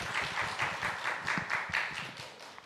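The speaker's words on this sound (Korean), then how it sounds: "다시 한번 우리 귀한 성도님들께 박수" A church congregation claps together in a lecture hall, a fast, even patter of many hands that stays moderate in level for a few seconds, with no talking over it.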